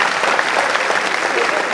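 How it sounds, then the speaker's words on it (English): An audience at a TEDx talk on Om breaks into loud, dense applause, a brief burst of many hands clapping together close and full, with no one speaking over it. "Yeah, okay, clap, clap."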